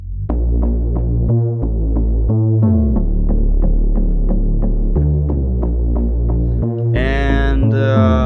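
A layered bass from the Signal instrument, its Shockwave patch stacked with a Reese bass synth, plays a loud, continuous, throbbing line with repeated pulsing notes and a brighter buzzy swell near the end, no voices present.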